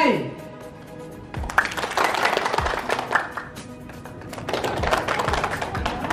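Workshop participants clap hands together in rhythmic bursts, loud and fairly close, with spoken instruction and chatter around the claps.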